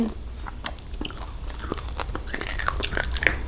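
Someone eats fried pork belly in fish sauce with sticky rice, giving close, crisp bites and wet chewing in an irregular rhythm over a faint low background hum.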